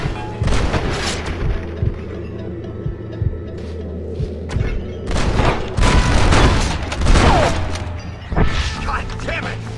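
Gunfire in a Red Dead Redemption shootout, with scattered shots and heavy booming blasts over rumbling background, rising into a louder cluster midway. Voices speak in between.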